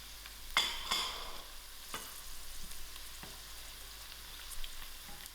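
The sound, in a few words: green chilies frying with mustard seed in a pan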